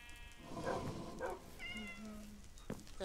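A Minecraft cat meows in game, two short meows followed by a longer rising cry and a faint click, fairly quiet and close.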